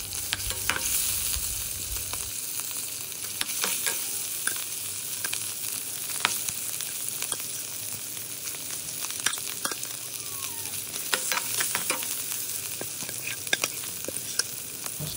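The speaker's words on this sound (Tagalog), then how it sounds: "tapos na natin ginisa ang sibuyas at ilagay na natin ang longganisa" Chopped onions and longganisa sausage sauté in a hot pan, a continuous bright sizzle broken by frequent scraping and stirring clicks of a utensil, close and steady with no voices.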